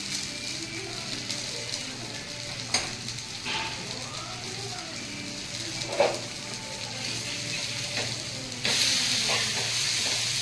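Grated coconut roasts in a pan with a quiet, continuous sizzle, occasional spatula scrapes and stirs, and a faint voice murmuring now and then in the background.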